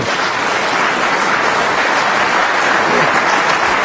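A snooker arena crowd at a Ronnie O'Sullivan versus Matthew Stevens frame breaks into steady, dense applause after a shot, loud and continuous for several seconds.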